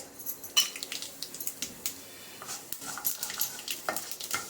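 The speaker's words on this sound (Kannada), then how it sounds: "ಸಾಸಿವೆ ಚೆನ್ನಾಗಿ ತಿಟ್ಕೊಟ್ಬೇಕು" Mustard seeds splutter in hot oil in a pan, with a faint crackling sizzle and scattered sharp pops close by, no one speaking.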